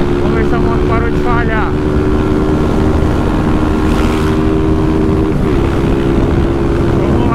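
A Honda Titan 160 motorcycle engine with no mirrors runs steadily with a loud, constant drone throughout, never dropping off.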